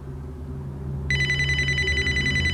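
A phone rings during a stage play, a steady electronic ringtone that cuts in partway through and keeps going over a low, quiet room hum.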